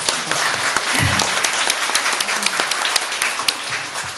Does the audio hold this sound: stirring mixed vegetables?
no